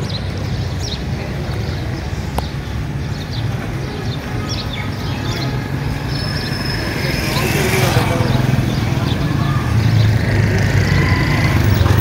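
A 2019 United Bravo car engine runs steadily with strong vibration, a low continuous rumble heard close up that grows slightly louder in its second half, with some outdoor background noise.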